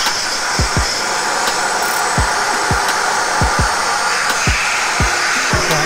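Sandblasting a canal narrowboat with fine abrasive grit gives a loud, steady broadband hiss of blasting air, punctuated by repeated low thumps at irregular intervals throughout.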